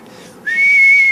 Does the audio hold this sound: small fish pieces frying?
no